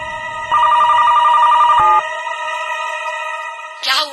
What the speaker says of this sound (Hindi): क्या हुआ? फोन कैसे कट गया?